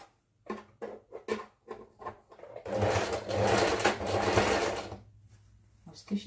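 A sewing machine stitches the side seams of a handmade garment in one steady burst of about two seconds, preceded by short stop-start pulses of the motor and followed by a brief final run.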